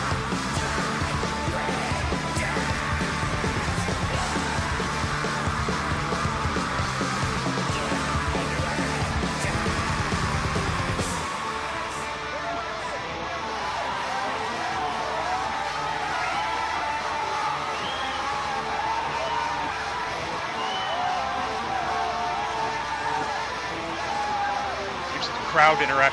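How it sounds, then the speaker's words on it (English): Crowd cheering and yelling within a played music track, loud and dense for the first eleven seconds, then thinning to a quieter, more distant hum of voices. "Crowd interaction there."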